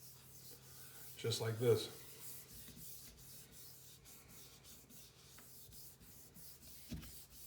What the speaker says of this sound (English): I start just rubbing it in